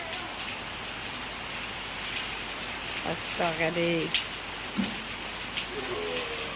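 Steady rain falls outdoors in a broad, even hiss that runs throughout, with a voice speaking briefly over it and a few other short sounds midway.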